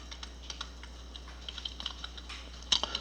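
Quick, light clicks of a computer keyboard, sparse then bunched, with a sharper cluster near the end as Ctrl+Enter runs an Oracle SQL query; close and fairly quiet, with no talking.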